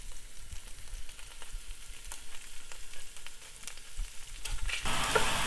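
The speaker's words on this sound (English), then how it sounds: "now we're going to put the sausage in here," Sausage browns in a pan for chili, a steady close sizzle and crackle with occasional stirring scrapes, growing louder and brighter near the end.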